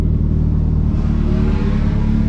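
A race car engine roars loud and close in a sustained, steady acceleration on track, a dense continuous drone with no voices.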